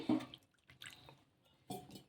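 Water pours and splashes in short bursts into a thick sabudana batter nearby, with quiet gaps between pours.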